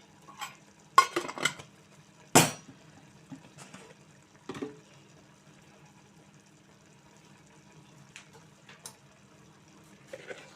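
A spoon stirs chili powder into a pan of tomato and chukka kura (sorrel leaf) curry, giving a few scraping clinks and soft knocks against the pan, spaced apart over a quiet, steady background hum.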